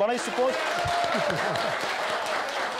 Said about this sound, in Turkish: bir alkış gelsin